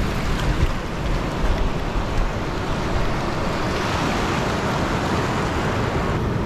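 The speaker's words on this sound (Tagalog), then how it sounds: "Grabe, tataas ng alon." Heavy sea waves crash and wash near a boat at the shore by a long breakwater in Bani, Pangasinan, a loud, continuous rushing surf mixed with wind buffeting, with no talking.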